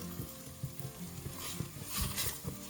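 Onions with salt frying in a pan while they caramelize, a steady close sizzle with soft stirring scrapes and taps running throughout, no talking.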